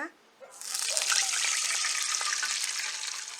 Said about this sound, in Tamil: இப்போது தண்ணி நல்லா கொதிக்க ஆரம்பிச்சிருச்சுங்க.